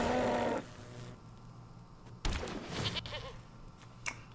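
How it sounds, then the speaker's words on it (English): A goat bleat sound effect in the video game MTG Arena, a short bleat at the start followed by quieter game effects and clicks, no speech. "We'll go ahead and sacrifice a goat."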